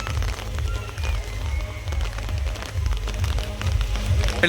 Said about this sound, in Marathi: चला पाऊस बघा आज आज पाऊस आहे